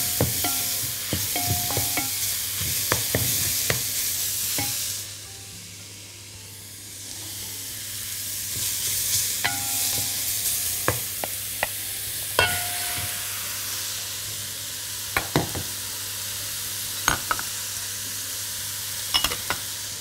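Mushrooms and minced meat frying in a pan, with a steady sizzle broken by repeated sharp scrapes and clinks of a spoon stirring, loud and close, with a quieter pause midway.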